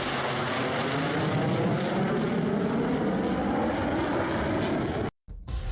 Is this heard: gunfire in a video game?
no